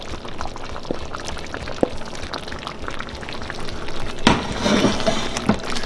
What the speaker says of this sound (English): now to finish it off, I'm gonna add our beef with all the juices that it has